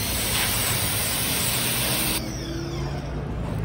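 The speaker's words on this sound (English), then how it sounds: "I'll get the pressure washer" A pressure washer sprays the front of a restaurant, making a loud, steady broadband hiss of water jet that shifts in tone partway through as the spray moves across the surface, close and continuous with no speech.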